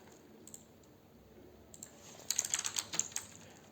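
Code being typed on a computer keyboard while building a Flutter grid view: sparse clicks at first, then a quick burst of close, crisp keystrokes near the end, with no voice.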